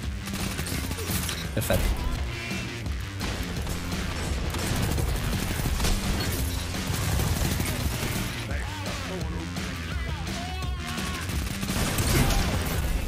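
Rapid submachine gun bursts in an online shooter video game, dual SMGs, crackle repeatedly over a busy mix of game effects and mechanical clatter, with a player's voice speaking briefly over the action.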